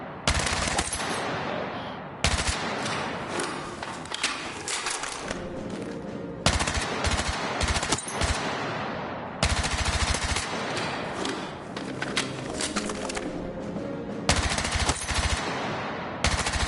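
MPX submachine gun firing on a Battlefield 6 firing range, several long full-auto bursts of rapid loud shots separated by short pauses.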